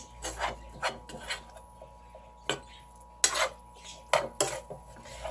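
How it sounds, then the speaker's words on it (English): Utensil scraping and clinking against a pan or bowl as food is stirred to mix in its juice, a few separate clattering bursts with quiet gaps, close by and without talk. "Stir this up a bit to get all the juice mixed in."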